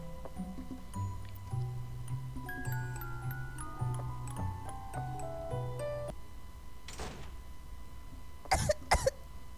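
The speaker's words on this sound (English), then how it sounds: "Just sudden death of coughing." Coughing bursts near the end of a clip from the horror game Pocket Mirror, following a long stretch of tonal, ticking game music; the coughs come as two or three loud, harsh bursts close together.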